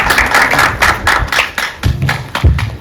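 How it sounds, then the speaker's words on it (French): Audience clapping at a rap competition as the next artist is introduced, a run of loud, close, uneven claps from a small group, with no talk over them. "On applaudit pour ZDR."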